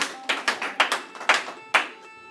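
Hands clapping at a Republic Day kavi sammelan poetry gathering, a short burst of sharp, close claps in an uneven rhythm that quickly thins out and stops.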